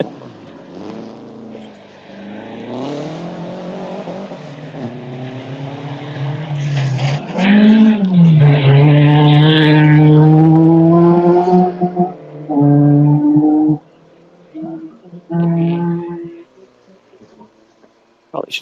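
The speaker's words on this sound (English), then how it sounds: "Car makes a lot of noise and spins a lot of tires." A rally car at a stage of the Olympus Rally approaches and roars past, its engine revving hard through rising and falling pitch with tire spin on the loose surface, loud and near, then fading into the distance.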